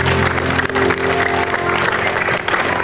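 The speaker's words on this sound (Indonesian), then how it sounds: "Tepuk tangan dulu." Dense, loud applause from an audience at a graduation-themed motivational talk, steady and sustained throughout with a constant hum underneath.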